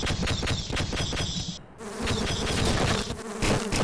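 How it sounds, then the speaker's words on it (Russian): Loud, dense insect buzzing from swarming flies in the Half-Life PC game, a continuous droning hum with a brief dip midway before the swarm swells back, close and filling the whole stretch. "Да, блин, эти мухи какие-то неадекватные"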